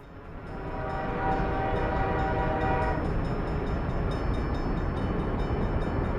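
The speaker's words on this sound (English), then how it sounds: "It's a bitumen train." A long bitumen tank train rolls past in Workers & Resources: Soviet Republic, its loud horn sounding for about three seconds over a steady rumble of wheels that carries on after the horn stops.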